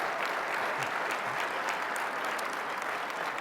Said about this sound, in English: Come on and give them a round of applause.